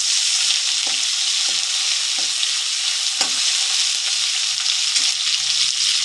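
Onions with whole cumin seeds sputter in hot oil, a constant bright crackling hiss up close, broken by several soft spoon scrapes at irregular intervals.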